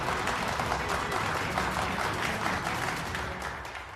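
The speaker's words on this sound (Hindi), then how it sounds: "A big round of applause." Sustained applause from an audience at a music album launch event in a Hindi TV drama, steady and dense throughout, tapering slightly toward the end.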